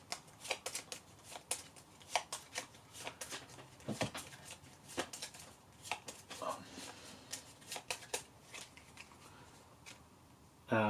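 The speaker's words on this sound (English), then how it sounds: "so I will then shuffle." Playing cards from an Undaunted: Normandy wargame deck are shuffled by hand, with a quick series of faint riffling snaps and taps at close range in a quiet room.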